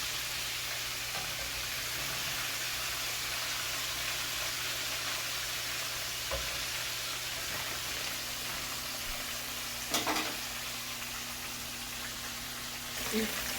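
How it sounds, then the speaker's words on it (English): Red snapper fries in a pan with a steady, close, hissing sizzle that continues through the whole clip. A couple of faint clicks are heard near the end, and no one speaks. "So this is my red snapper frying here"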